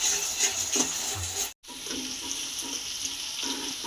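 Chopped onion and green chilli frying in a pan for goat leg nihari, a close steady sizzle with soft scraping and stirring knocks, cut by one brief drop to silence partway through.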